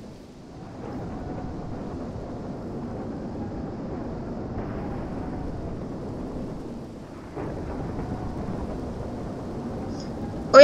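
Strong storm winds from a Minecraft weather and tornadoes mod, a continuous loud roaring rush with low rumble that dips briefly and resumes, steady throughout with no talk.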